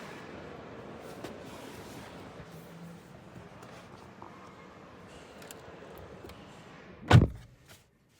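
The door of a 2026 VW T-Roc R Line shuts with a single solid thud near the end, preceded by quiet cabin ambience.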